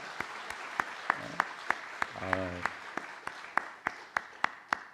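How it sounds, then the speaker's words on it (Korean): A church congregation applauds the youth praise team with steady, evenly spaced claps, with a brief voice partway through. "오늘 우리 오아시스 찬양팀 우리 청년들 우리 한 박수 한번 해줄까요?"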